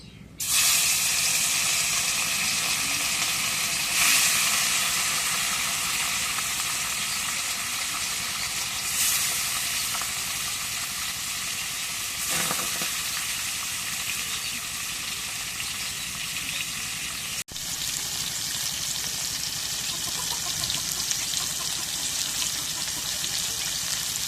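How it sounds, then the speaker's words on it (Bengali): Fish frying in hot oil in a home kitchen gives a steady, loud sizzling hiss that runs unbroken throughout, with faint crackles and pops scattered across it. "এখন তেল গরম হয়ে গেছে মাছগুলো দিয়ে দিই"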